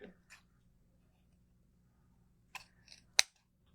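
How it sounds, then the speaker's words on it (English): Scissors snipping off ribbon tails for hoop ornaments: a few faint, quiet cuts spread across a near-silent stretch, ending in one sharper snip. "Cut off the tails."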